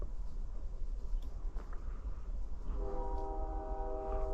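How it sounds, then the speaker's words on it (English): A train passes in the distance. A steady low rumble and wash of noise builds, and a sustained multi-tone horn sounds faintly near the end. "Ooh, there's a train."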